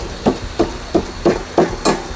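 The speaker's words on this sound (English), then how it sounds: "hammer it down and lay it to one side." Hammer tapping a glueless stove door gasket into place on a scratch-built wood stove, six evenly spaced sharp knocks close by with no talk.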